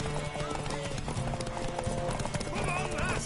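Hoofbeats of a horse clip-clop steadily in a video game on PS4, with a brief whinny, running under game music and character dialogue.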